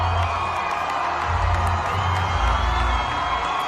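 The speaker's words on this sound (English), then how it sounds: "the whole crowd at CPAC went crazy" A large crowd at the CPAC conference cheers and whoops loudly and continuously, a dense roar of voices filling a big hall without pause.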